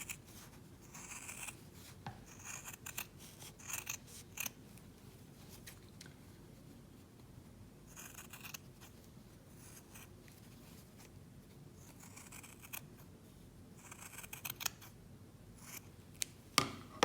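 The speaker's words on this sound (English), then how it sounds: "then I can just trim off the excess." Scissors snip through excess plaid fabric while a winter gnome is made, a run of quiet, close crisp cuts in irregular bursts with short pauses between them.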